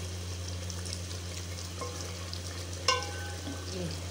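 A yogurt-based curry of bagochiyan cooks down in a pot, a low steady sizzle with soft stirring scrapes and one sharper clink near the end, with no speech.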